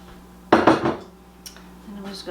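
Cake batter for a cinnamon cake going into a buttered baking dish, with a few close clanks and scrapes of utensil against the dish, then softer scraping, no talk.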